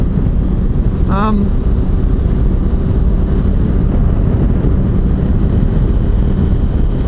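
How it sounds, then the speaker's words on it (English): A KTM 790 Adventure R motorcycle accelerates on the road. The engine drone is steady and loud, buried under heavy wind rush, with a brief chirping whistle just after the first second. "It accelerates away nicely."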